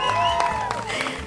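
Crowd clapping and cheering fill the space at a film promotion event, steady and moderately loud, with tonal music or voices ringing faintly over it.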